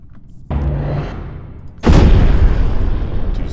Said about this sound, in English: And I am bombarding now their planet.